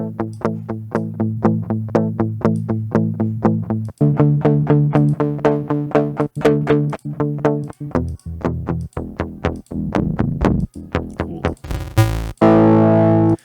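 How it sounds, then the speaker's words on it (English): Heavily distorted electric guitar chords through a DS-1 distortion pedal, strummed in a steady driving rhythm, loud and close, ending with a sustained ringing chord. "let's go with a little bit of distortion, a DS1 pedal"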